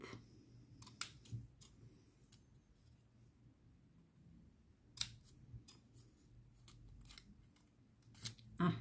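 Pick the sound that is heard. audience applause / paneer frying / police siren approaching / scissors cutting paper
scissors cutting paper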